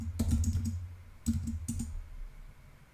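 A computer keyboard clicks quietly as a short search query is typed, with a quick cluster of keystrokes followed by a few separate taps and then stillness.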